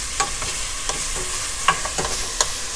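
Pork and sausage browning in a pan over medium-low heat, a steady close sizzle broken by several light stirring scrapes and clicks, with no voices.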